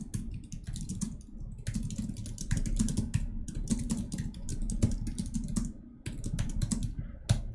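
Fast, dense keystrokes on a computer keyboard as code is entered, continuous clattering with brief pauses, close and fairly loud over a faint low hum, no voices.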